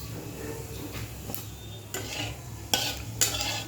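White cumin seeds in a generous amount of hot oil in a kadai, a steady frying hiss with a few sharp metallic scrapes and clinks from stirring, close and moderately loud, no talking.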